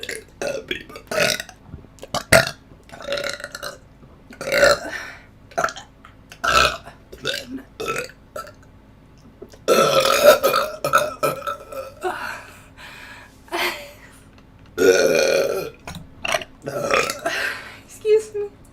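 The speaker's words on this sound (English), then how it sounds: "Excuse me. Burp." A person burps loudly and close to the mic again and again, the burps falling in an irregular series of drawn-out bursts separated by quiet gaps.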